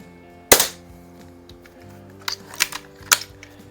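A Daisy Model 99 BB gun fires a sharp, close snap, followed a couple of seconds later by a few quieter clicks and pops, all over a faint background hum.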